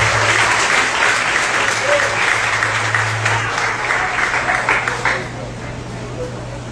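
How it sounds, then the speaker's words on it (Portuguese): Church congregation applauding during a sermon, a dense, steady wash of clapping that thins and fades near the end, with a low sustained hum underneath and some voices mixed in. "Aplauda Jesus e se coloque de pé"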